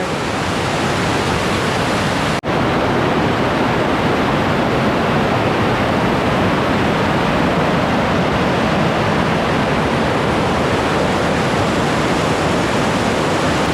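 A clear mountain stream flows in full spate, a loud, steady broadband rush of water heard close and continuous, broken only by one sharp brief click early on, with no voices.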